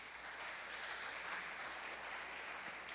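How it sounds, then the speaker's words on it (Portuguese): A church congregation applauds during a sermon, a dense, even wash of clapping that holds steady throughout without a break. "Você pode dar um aplauso a Jesus por isso?"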